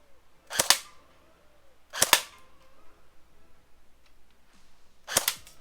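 A Cybergun AK47 electric airsoft rifle fires three sharp single shots with uneven gaps between them, each a crisp close snap over a quiet background.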